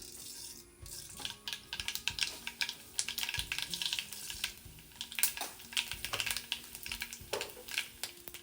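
Mustard seeds spluttering in hot oil for South Indian oats rava idli, a dense continuous crackle of rapid close pops and sizzles without pause.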